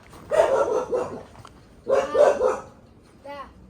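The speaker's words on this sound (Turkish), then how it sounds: "Köpek fazla kızdı." A dog barks in two loud, rapid bursts of harsh, snarling barks close by, followed by a short whine.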